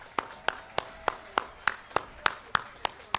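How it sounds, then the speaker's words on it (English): At a high school graduation ceremony, the audience claps in steady unison for board members, about eleven crisp, evenly spaced claps ringing out loudly in a large hall. "A round of applause."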